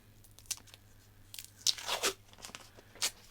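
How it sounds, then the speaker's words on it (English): Masking tape tearing off a roll to mask an oil sight window on a cafe racer motorcycle frame, several short crisp rips and crackles, close and fairly quiet, with one louder stretch of pulling near the end. "I need to tape off the oil sight window"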